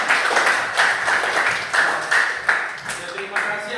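Schoolchildren in a classroom clap their hands in a patterned, rhythmic burst of grouped claps with short pauses between them, fairly close and loud, and an adult voice speaks over part of it.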